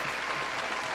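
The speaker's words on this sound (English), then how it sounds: "a round of applause for Meek" A round of applause sound effect played on a podcast, a brief, steady burst of dense clapping at constant level.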